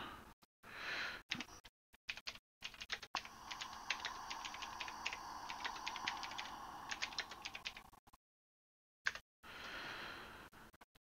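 Steady rapid keystrokes on a computer keyboard during a live-streamed multiplayer farming game, a dense run of clicks with short gaps and a silent break near the end.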